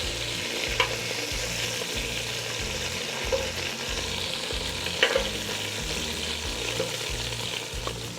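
Chicken pieces browning in a hot pan, a steady close sizzle with a few sharp clinks and scrapes of a utensil, plus a low rhythmic background hum, with no talk.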